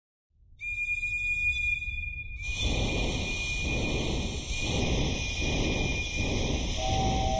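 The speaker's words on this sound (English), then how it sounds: "We're on the puffer train, the best kind of train." Steam puffer train in the Agatha Christie ABC Murders video game, starting up with a steady rhythmic chuffing and rumble under sustained whistle-like tones, loud and close.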